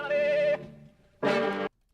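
Warped sample taken from a song: two short, bright bursts of tonal, buzzy sound separated by a brief quiet gap, clear and alone.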